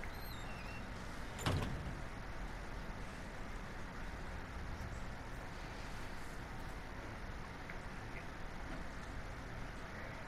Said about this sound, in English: He's slamming the door.